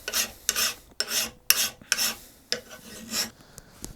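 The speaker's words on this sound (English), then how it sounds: "So now that we've done a really coarse file" A coarse metal file rasps across a rusty metal vise in about eight close, loud forward strokes, each a short scratchy burst separated by brief pauses.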